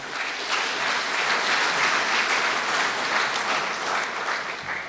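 An audience applauds a donor at a university president's report, sustained dense clapping from a large hall crowd, even and moderately loud throughout with no talking.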